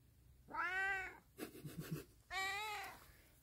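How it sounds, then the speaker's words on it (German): A cat meowing oddly, two long drawn-out nasal, bleating meows close by, separated by a brief rustle, fairly quiet and alone. "Der kann nicht normal miauen."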